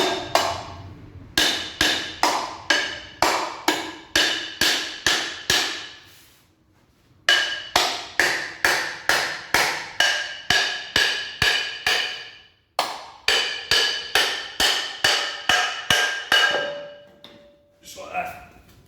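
Metal on a 1962 Land Rover Series 2A is knocked down with a hammer in long runs of sharp, ringing blows at a steady rhythm, broken by short pauses, close and loud, ending in a brief metallic ring.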